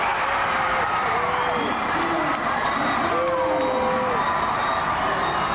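A loud, sustained crowd roar fills a high school basketball gym after a dunk by the Valencia Vikings, with cheers and whoops swelling throughout and voices rising over the din.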